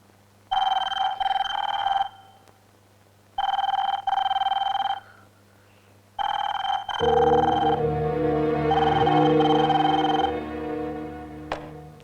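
A telephone rings in three separate bursts, then a louder sustained ringtone-like tone carries on without pause.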